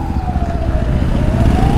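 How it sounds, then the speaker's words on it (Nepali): An ambulance siren on a road heard from a dirt bike ride, a loud continuous wailing tone gliding slowly over a rumbling engine and traffic noise, near and steady. "Ambulance is coming."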